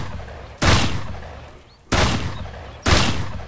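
Three loud 12-gauge shotgun blasts ring out in the survival video game Mist Survival, spaced about a second apart, each with a sharp attack and decaying tail.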